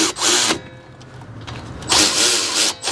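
A power tool tightens the 14 mm caliper slide pin bolts on the front brakes of an Acura MDX, running in two loud, close whirring bursts with a brief lull between them.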